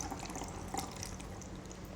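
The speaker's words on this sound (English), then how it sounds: "I've got pre-boiled water. So same amount through the funnel." Pre-boiled water pours through a funnel into a spray bottle, a steady close trickle and splash with small drips, alone without talk.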